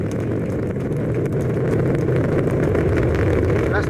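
Indian rocket's S200 first stage during ascent, about thirty seconds into the flight, producing a steady, dense low roar that stays loud and continuous throughout with no voices over it.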